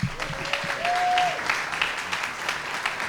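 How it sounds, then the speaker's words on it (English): A room of attendees applauds the mayor at a city food action plan event, a moderate burst of clapping with scattered sharper claps and a brief whistle-like tone early on, fading slightly toward the end. "let's give a warm round of applause for our Mayor, Bruce Harrell."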